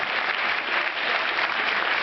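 An audience at a John and Hank Green question-and-answer event applauds, producing a dense, even roar of clapping hands that stays loud and steady from start to finish.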